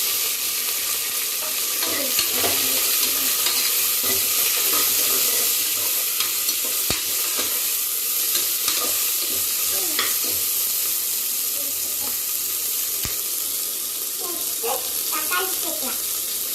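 Onions frying and being stirred in a pan for a biryani, a steady broadband sizzle close by with scattered scraping and clinking of the spoon throughout, no voices.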